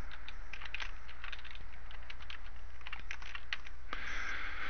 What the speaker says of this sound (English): So I've typed the URL in